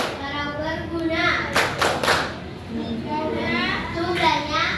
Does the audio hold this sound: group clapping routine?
yes